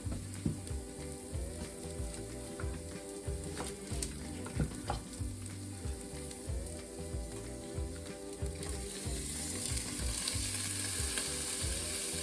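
Half-frozen grass-fed beef frying in a pan, a steady close sizzle with spatula scrapes and stirring knocks running throughout, growing a little louder and brighter toward the end.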